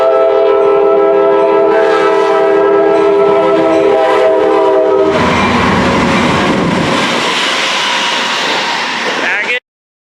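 A loud train on the Verde Canyon Railroad rolls past up close, a sustained horn-like tone giving way to a broad rumbling roar of rail cars before cutting off abruptly.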